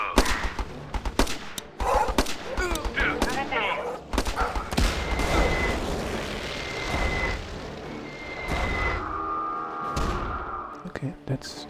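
Machine gun fire in the video game Battle Island: repeated loud, close bursts of rapid shots interspersed with heavier blasts and shifting battlefield noise over about ten seconds.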